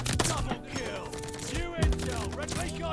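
Rapid bursts of MP40 submachine gun fire in Call of Duty: Vanguard, sharp repeated shots crackling close and loud in quick succession, with other in-game effects layered around them.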